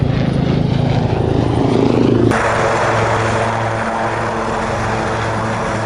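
A propeller aircraft at the Duxford 2016 airshow drones loudly and steadily overhead, its engine roar continuous with a low pulsing throb, no voices.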